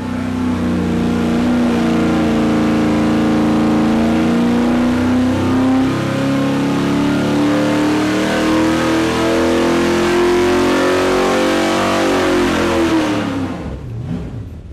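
A race car engine, its top end raised to 5,700 RPM, revs loud and close in a long sustained climb with a rising pitch, holds near the peak, then cuts off and falls quiet in the final second.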